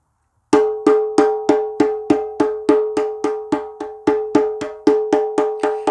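A high-pitched tap tone struck on a hand drum with stiffened, locked-together fingers, about sixteen bright ringing strikes in an even pulse, each decaying quickly, close and clear with no voices.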